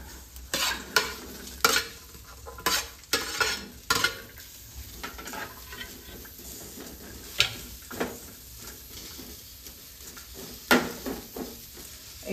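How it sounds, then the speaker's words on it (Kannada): Sliced okra frying in a little oil in a pan, stirred with sharp scraping strokes that come in irregular bursts over a steady low sizzle, close and fairly loud, with no voices. "ಸ್ವಲ್ಪ ಆಯಿಲ್ ಹಾಕಿ ಫ್ರೈ ಮಾಡ್ಕೋಬೇಕು."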